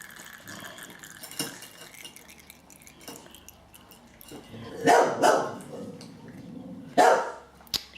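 A dog barking in a home kitchen, two or three loud sharp barks spaced a couple of seconds apart, amid light clatter of utensils and dishes.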